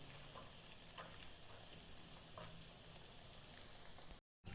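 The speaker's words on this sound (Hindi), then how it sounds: "ये तलते टाइम मीडियम ही आंच पर तलना चाहिए" Soya chunk nuggets fry in hot oil over a medium flame, a steady close crackling sizzle with scattered small pops throughout, with a brief dropout near the end.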